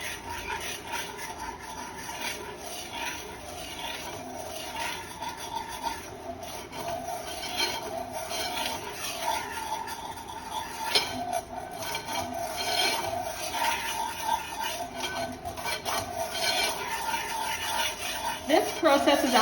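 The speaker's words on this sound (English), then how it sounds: "And then I take my whisk and just whisk it." Potato soup mix is whisked in a pot, a rough, rasping scrape that repeats through the clip while a person talks.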